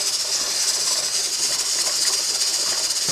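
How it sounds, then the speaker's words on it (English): Steam hisses steadily from a pressure canner just unlocked and lifted open while canning pinto beans, a loud continuous rush that holds for the full few seconds. "Can you see all that smoke, steam?"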